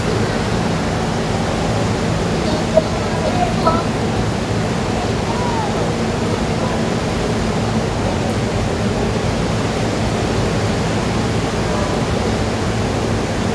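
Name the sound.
roaring, fast-flowing flooded Marikina River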